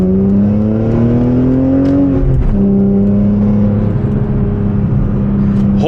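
A sports car accelerates hard, its engine note climbing steadily, dropping briefly at a gear shift around the two-second mark, then pulling up again. It is loud and close, heard from inside the cabin while driving on a short stretch of road.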